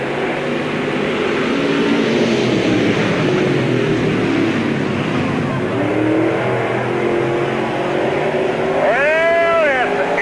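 Pro Street race cars roar together under the green flag at Spoon River Speedway, a dense, loud, continuous engine drone with rising and falling pitch sweeps as cars pass, and another revving engine near the end.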